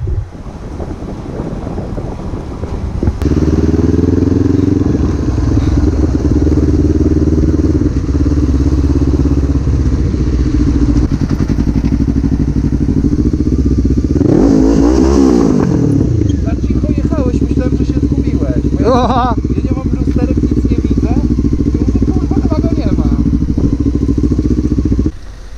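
A Honda CB 500 motorcycle engine idles loud and close with a steady throb, then revs up and back down once partway through, with wind noise over the microphone.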